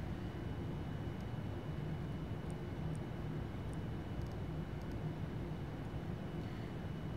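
A Qualitywings 787-9 airliner in the Prepar3D v4.2 flight simulator hums with a steady, faint, broadband engine drone and a low tonal whine, continuous and unbroken with a few faint clicks.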